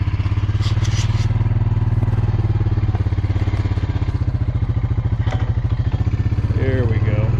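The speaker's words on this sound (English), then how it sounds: "let's see if it'll go into gear with the battery being almost dead." A quad bike with an almost dead battery runs loud and close, its engine throbbing steadily with clattering mechanical noise as it is put into gear.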